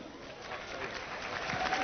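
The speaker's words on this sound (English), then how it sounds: "Oh, the confused applause is the best applause." Applause from a live audience at a Grammy awards ceremony, a steady dense wash of clapping that holds throughout and swells slightly toward the end.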